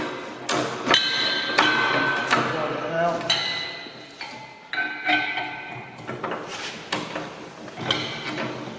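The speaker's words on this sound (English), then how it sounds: "the next job to do is to refit the jack." Metal clanks and knocks while a car jack is refitted during a wheel swap on a Chapman FM, a series of sharp close hits and rattles spread through the clip.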